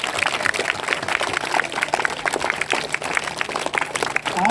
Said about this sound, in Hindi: इसके लिए फिर से ताली बजाइए अपने लिए।